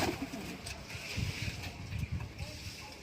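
Racing pigeons coo in low, soft, repeated murmurs nearby, rising in short pulses over a steady background hum.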